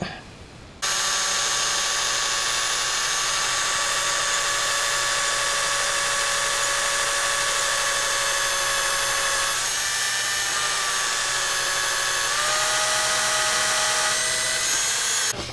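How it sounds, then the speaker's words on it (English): A steady high-pitched drill whines continuously into metal, drilling a cross hole in a kitchen tap part, its tone shifting slightly partway through as the bit bites, loud and close with no talking. "I'll drill the cross hole while it's still a lot bigger than it needs to be"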